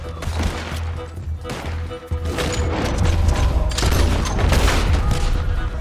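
A Gatling gun rattles off a sustained, dense burst of rapid fire in the Red Dead Redemption 2 video game, loud and continuous with a brief dip before resuming, layered over distant shots and game ambience.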